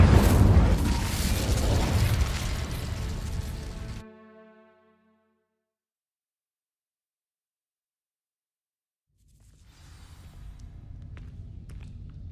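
Fiery burst of the Incendio spell in the Hogwarts Legacy video game: a loud, dense whoosh for about four seconds that fades into a ringing tail, then silence before a low rumble returns.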